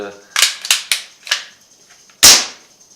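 A Crosman M4-177 air rifle is loaded and fired, giving several sharp snapping clicks in quick succession and then one louder, close crack.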